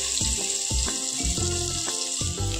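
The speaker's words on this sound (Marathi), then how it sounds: "आता अद्रक लसूण व कोथिंबीर पेस्ट टाकून घेऊ।" Ginger, garlic and coriander paste sizzles steadily in hot oil in a cooker while making mutton curry, a continuous bright hiss with rhythmic background music over it.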